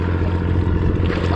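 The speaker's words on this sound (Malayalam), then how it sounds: "അയ്യോ ഈ ബോട്ട് എന്തോ ഒരു ഓളം ഉണ്ടാക്കിയോ" A rusty passenger boat passes on a Kerala backwater, its steady engine drone joined by wake waves washing and slapping close by, loud and continuous with no talk.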